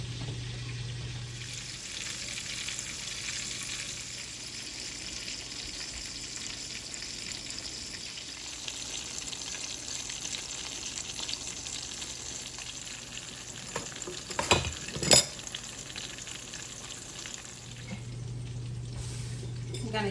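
Pork chops frying in a pan, a steady close sizzle and crackle running throughout with a low hum at start and end and a brief louder clatter near the end.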